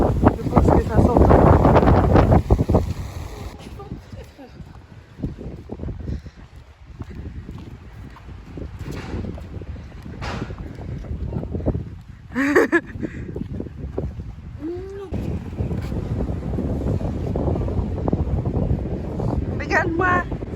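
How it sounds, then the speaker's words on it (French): Strong wind at a Costa Brava beach buffets the microphone in a loud, rough rumble, gusting harder at the start and again near the end, with people talking over it. "On arrive à la plage. Il y a un vent de ouf."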